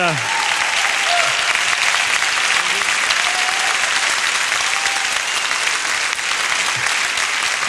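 Sustained audience applause at a Capitol Steps comedy performance, a dense, steady wash of clapping held at an even level for several seconds, with faint voices mixed in.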